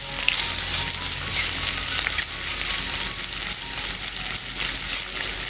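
Chopped onion and garlic fry and get stirred in a pan, giving a steady, loud sizzle with faint scraping of the stirring utensil throughout, and no voices.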